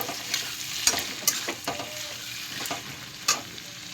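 Potatoes fry with spices in a pan, a soft steady sizzle broken by several sharp scraping strokes of a spatula stirring, fairly close and without talk.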